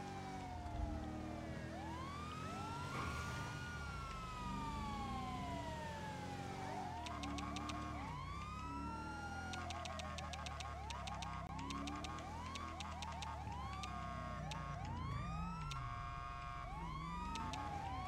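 Continuous wailing ambulance sirens in a police video game, sweeping up and down, several overlapping with a car engine underneath, rising and falling throughout in a synthetic, game-like mix.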